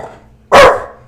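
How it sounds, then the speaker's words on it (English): A single loud, close dog bark bursts out abruptly indoors, with a quieter low background rumble before it and a short fade after. "Charlie, what are you barking at?"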